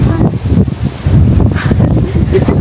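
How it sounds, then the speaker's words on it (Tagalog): Strong wind roars and buffets the microphone in a loud, continuous rush with rustling, while a voice speaks briefly underneath. "Sobrang lakas ng hangin dito sa taas."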